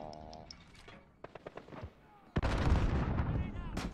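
Video game gunfire cracks out in a few sharp, scattered shots, then a loud burst of heavy firing takes over and continues near and dense to the end. A voice is faintly heard early on.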